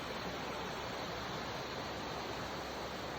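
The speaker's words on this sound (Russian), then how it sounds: "Протекает речка снизу" A river flows beneath an old stone tower in Chechnya, heard as a steady, even rush of water with no talking, quiet but unbroken from start to finish.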